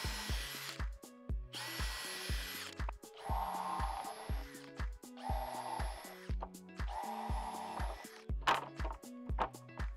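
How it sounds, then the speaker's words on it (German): A power drill whirs in several bursts, revving and stopping as it pre-drills wooden boards for a garden shed, with rhythmic background music running underneath. "Bohren Sie zunächst alle Hölzer vor."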